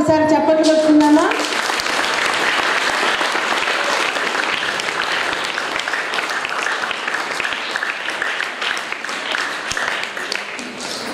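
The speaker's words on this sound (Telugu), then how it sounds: "ఒకసారి చప్పట్లు కొట్టుకుందామా?" Children clap together at a Children's Day celebration run by a local society, the applause breaking out after a short spoken line and continuing as a broad, sustained patter that slowly tapers off.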